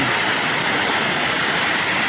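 A strong, fast water current pouring down a waterfall makes a loud, dense, unbroken roar close by, with no voices over it.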